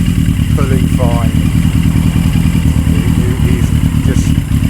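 A Yamaha XJ750 motorcycle engine idles steadily with a loud, even mechanical thrum close by, joined by a few brief chirps in the background.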